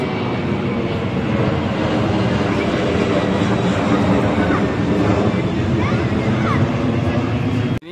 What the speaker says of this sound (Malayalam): പിന്നെയും പ്ലെയിൻ പോന്നു ഗൈസ്.